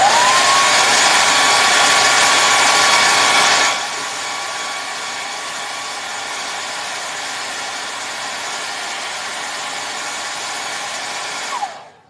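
A hair dryer blows steadily to dry a painting in progress, loud and close, dropping to a lower setting partway through before switching off at the end.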